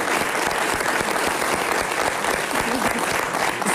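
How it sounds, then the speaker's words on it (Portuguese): Television studio audience applauding throughout on a Portuguese talk show, a dense, steady wash of clapping at constant loudness from start to end. "uma salva de palmas para Maria Alberta Meneres"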